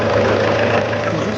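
A tractor engine idles close by with a steady, loud, low rumble that holds throughout with no breaks.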